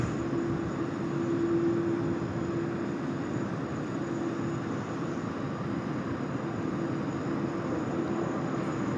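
SriLankan Airlines airliner taking off at Sydney Airport, heard as a steady, loud jet engine roar with a sustained low rumble that holds throughout, no voices over it.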